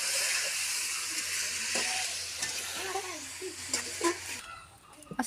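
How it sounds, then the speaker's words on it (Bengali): Chicken meat sizzles in hot oil for biryani, a continuous frying hiss close by with stirring scrapes and brief voices near the end. "মুরগির মাংস ভাজা হচ্ছে।"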